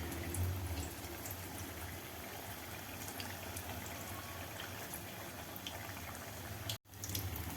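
Tap water runs in a steady, even stream while hands are washed in a home kitchen during snack cooking, continuing unbroken for several seconds before a brief cutoff near the end.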